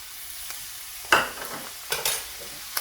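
Tomatoes go into a hot pan for bolognese sauce, bringing a sharp hiss of sizzling followed by a few quick stirring scrapes. The sounds are close and there is no talking.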